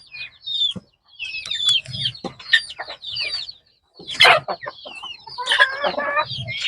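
Poultry chicks kept alongside Brahma chicks, with chickens nearby, cheeping and clucking in close, irregular bursts separated by brief pauses.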